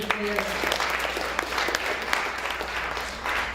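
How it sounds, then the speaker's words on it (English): Audience applause for presenters at an event, a few seconds of scattered clapping from a modest crowd at moderate distance, fairly quiet, with people talking underneath. "we just clap for them"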